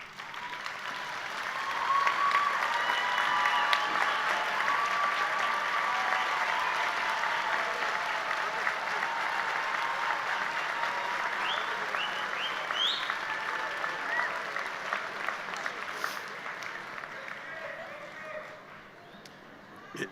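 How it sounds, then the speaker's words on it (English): A large commencement crowd applauding graduates' family and friends, long continuous clapping that swells early, stays steady, then tapers off, with scattered cheers and a voice faintly underneath. "stand and let us recognize you with applause"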